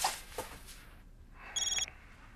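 A telephone rings in a quiet indoor scene: one brief, trilling electronic burst of rapid pulses, fairly clear and close, with faint background sound before it.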